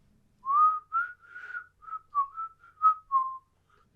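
A person whistles a short, wandering tune of clear notes, rising and falling in brief phrases, close and unaccompanied.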